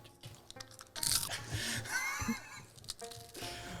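A person imitates crunchy chewing through frog bones with their mouth during a tabletop role-playing session, making a few moist crackling, crunching bursts over quiet room noise.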